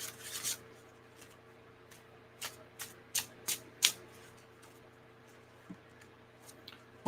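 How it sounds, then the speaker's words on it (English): Tarot cards are shuffled in quick, crisp riffling bursts, close and fairly quiet, spread irregularly across a near-silent room. "One more shuffle and we should be good to go, Crystal Polar."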